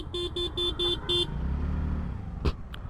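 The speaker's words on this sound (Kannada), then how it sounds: "ಹಾರನು ಚೆನ್ನಾಗಿದೆ." Five short, evenly spaced honks from a TVS Ntorq Race XP scooter horn, loud and close, then a low engine rumble in Basaveshwara Nagar traffic and a sharp click near the end.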